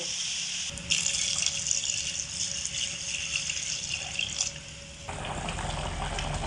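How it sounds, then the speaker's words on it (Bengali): Lukewarm water gushes from a vessel into a pan of vegetable curry with potato, pointed gourd and drumstick, a steady close pouring wash that shifts in tone near the end. "এবার আমি এর মধ্যে হালকা উষ্ণ গরম জল দিয়ে দেব"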